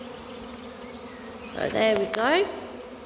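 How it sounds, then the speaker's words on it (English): A big swarm of bees buzzes steadily beneath a tree, a close, dense drone that swells louder in the second half while someone speaks a few words over it. "I'm just surrounded at the moment by bees, if you can hear them"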